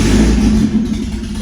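A 1978 BMW 320i E21 with its exhaust removed revs hard, a loud, raw, close engine roar that swells at first and then settles into a rough, rumbling lower drone.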